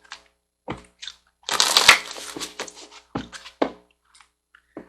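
Soul Coaching Oracle cards being shuffled by hand: scattered soft flicks and taps, then a dense riffling burst of about half a second, followed by a few more light card snaps and slides, close and fairly quiet with no talking.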